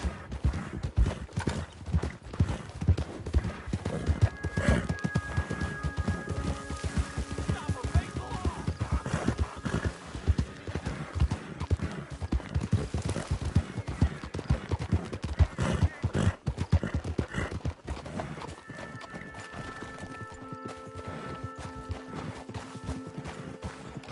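Horse hooves clip-clop steadily in Red Dead Redemption 2 Online, a dense, busy rhythm that runs through the whole stretch, with a horse whinnying and background game voices and music mixed in.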